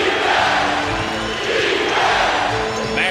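Arena crowd roars at a Heat vs Knicks playoff basketball game in 2000, a dense, sustained wall of cheering and chanting with a commentator's voice over it.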